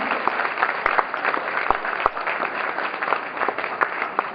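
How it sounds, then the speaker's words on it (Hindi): Steady applause from an audience at a gathering honoring a guest, dense clapping continuing evenly throughout with a few sharper claps standing out, fairly close and moderately loud. "एक बार फिर से जोरदार तालियां हो जाए."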